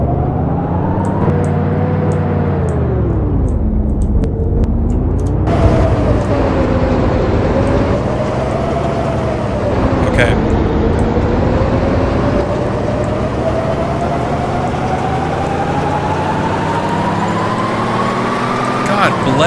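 A truck in the DayZ Standalone game drives steadily with a loud, constant engine drone whose pitch rises and falls as it shifts and accelerates, with brief clunks over rough ground and faint voices beneath.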